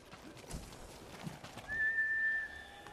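Horses in the video game Ghost of Tsushima, with faint hoof clip-clops, a brief whinny and a thin whistling tone over quiet outdoor ambience.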